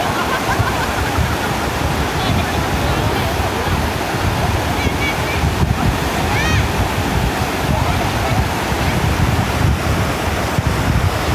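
Steady broadband roar of surf and water washing continuously at Chao Lao Beach, Thailand, with wind noise buffeting the microphone and faint voices in the background.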